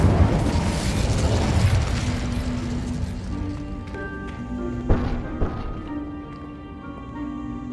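An Incendio fire spell bursts in Hogwarts Legacy: a loud initial blast with roaring, crackling flame, then lighter pops, thuds and mechanical clanks from the game, tapering to a quieter tonal hum.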